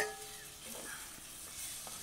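Cooked beef is tipped into a pan over a wood-fired stove and stirred, giving a faint sizzle with soft scraping and shuffling for a couple of seconds, low in level and without speech.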